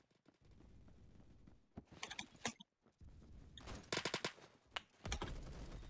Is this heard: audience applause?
no